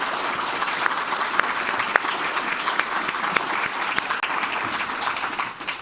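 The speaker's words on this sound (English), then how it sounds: "Let's give another round of applause to all of our speakers." An audience at an educators' and environmental professionals' event applauds the speakers, dense sustained clapping from a sizable crowd throughout.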